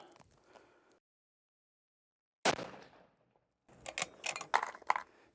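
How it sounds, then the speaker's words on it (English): A 7mm PRC rifle fires handloaded ammunition outdoors: one loud, abrupt report with a decaying tail, then a cluster of sharp metallic clicks and clatter close by. "So I'm shooting the middle now."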